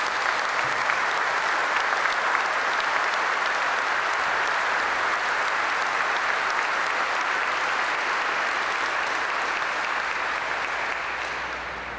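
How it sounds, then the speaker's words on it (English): An audience at an F-22A Raptor ceremony claps in sustained, dense applause that fills the room evenly for many seconds before tapering slightly at the end. "You deserve a great round of applause"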